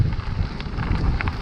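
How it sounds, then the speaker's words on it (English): Strong wind on an autumn day buffets outdoors in a low, constant rumble with gusty fluttering bursts, loud and close. "It is very windy."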